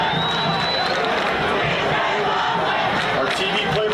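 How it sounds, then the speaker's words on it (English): Crowd at a high school football game, dense and loud, cheering and chanting continuously right after a fumble recovery in the end zone. "You could hear the crowd chanting DJ Loveland down there"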